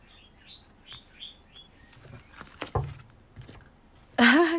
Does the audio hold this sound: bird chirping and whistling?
yes